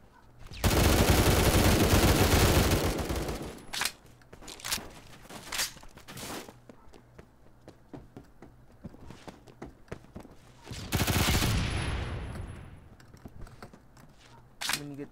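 MP5K submachine gun fire in a first-person shooter video game: loud sustained automatic bursts, a long one up front and another near the end, separated by sharp single and short-burst shots and clatter.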